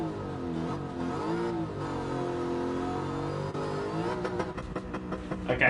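Loud, continuous revving from a Gran Turismo 7 car engine, the pitch swelling and dipping in long sweeps, then breaking into quicker, choppier blips near the end.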